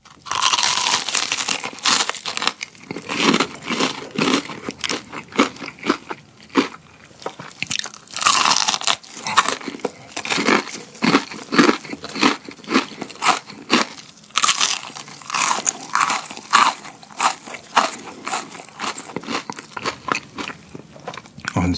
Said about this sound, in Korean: 그래서 엄청 바삭한 소리가 막 빡빡 나지 않아요?